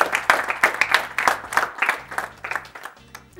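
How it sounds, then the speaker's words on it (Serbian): Applause from an audience at a school debate on school uniforms: dense, steady clapping from a room of people, fairly close, swelling and ebbing over a few seconds with no talk on top. "Hoćemo aplauz."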